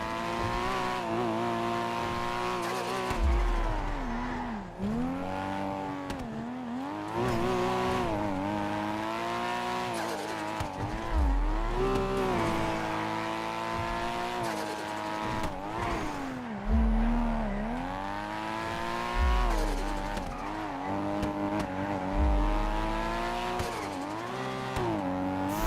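A Nissan GT-R race car chasing a BMW roars close and loud, its engine rising and falling through gear changes with repeated revs and dips. Deep thumps and tire noise come from the car, with no talk.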